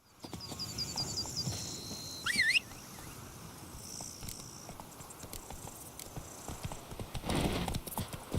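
Roach, a horse in The Witcher 3 set in Toussaint, gallops with steady clip-clop hoofbeats and lets out a sharp neigh near the middle, with a louder burst of movement toward the end.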